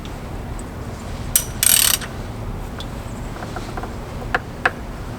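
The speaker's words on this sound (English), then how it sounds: "let's pull this oil filter off. I have one of these straps." A strap wrench grips and twists the oil filter on a Mercury 115 HP outboard, giving a few close mechanical clicks and a short rasping scrape as it strains to break loose, with faint small knocks afterward.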